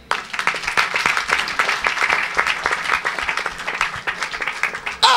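A church congregation at an evangelistic service erupts in loud, continuous applause, thick overlapping clapping filling the room for about five seconds before a sudden cut.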